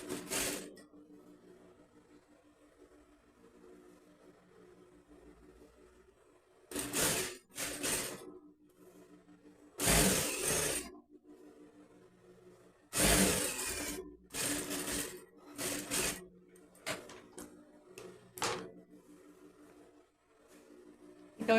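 A sewing machine runs in short bursts, stitching a seam on a dress that combines crochet and fabric, with quiet pauses between the loud runs of stitching.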